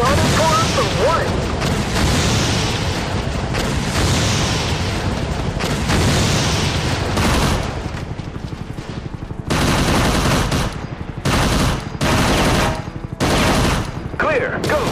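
Heavy Fire: Afghanistan combat gameplay: dense fusillades of automatic gunfire mixed with booming explosions, loud and nearly continuous at first, then breaking into separate sharp bursts, with voices in the background.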